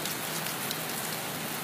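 Rain pours down in an unbroken, moderately loud hiss of countless drops, close by and without any voices.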